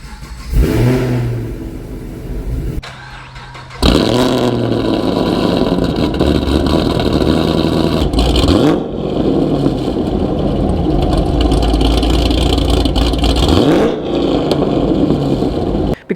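A cammed Chevrolet Camaro with a Borla exhaust revs loudly and close, with sharp throttle blips separated by brief drops to a lumpy idle, then long sustained roaring revs.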